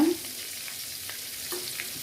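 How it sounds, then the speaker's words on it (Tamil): Egg gravy ingredients sizzling softly in a hot pan, a steady crackle with a few light stirring scrapes, close by and without talk. "லைட்டாக அப்படி ஃப்ரை பண்ணி எடுத்துக்கோங்க"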